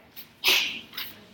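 A single short, sharp sneeze bursts out nearby, preceded by a faint intake and followed by a quieter trailing breath, alone with no talk over it.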